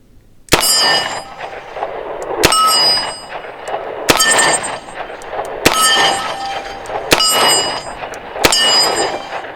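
A revolver is fired double action six times, each shot a sharp, loud crack at a slow, even pace roughly a second and a half apart, with a ringing tail and no talk.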